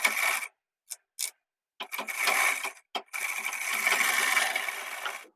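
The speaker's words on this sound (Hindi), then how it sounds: "एक सिलाई और लगा लेते हैं" Electric sewing machine stitching a belt blouse, running in short bursts, then two longer continuous whirring runs of fast needle stitching, close and fairly loud with brief pauses between.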